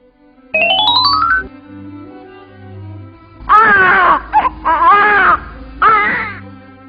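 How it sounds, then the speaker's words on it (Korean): A newborn baby cries in several loud, close wailing bursts, each quivering and strained, following a brief rising electronic chime and a soft low drone. "후궁의 집에서는 갓 태어난 아기의 울음소리가 힘차게 울려 퍼졌어요."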